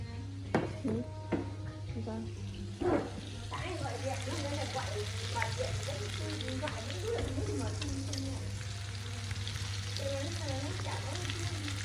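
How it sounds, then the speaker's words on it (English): Bite-sized tofu pieces sizzling in hot oil in a pan, with a few sharp clinks of utensils early on and a steady low hum underneath. "I moved on to frying the tofu."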